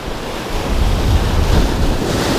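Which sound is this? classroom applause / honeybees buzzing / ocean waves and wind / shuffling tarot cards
ocean waves and wind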